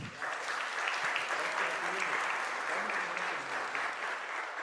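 Dense, steady applause from the audience at a forum on truth, justice and memory as an official photo is taken, even and sustained throughout with no pauses.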